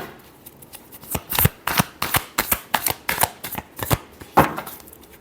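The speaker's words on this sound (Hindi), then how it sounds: "Last shuffle." Tarot cards are shuffled by hand close up, a quick series of crisp riffling and slapping bursts in an irregular rhythm.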